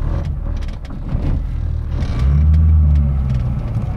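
A 2001 Rover Mini Cooper Sport pulls away in first gear, its small engine rumbling low and close, rising into a louder, steady drone partway through amid some cabin clatter.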